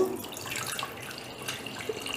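Water is poured into a kettle while a kadha drink is prepared, a short steady splashing stream close by with a few drips.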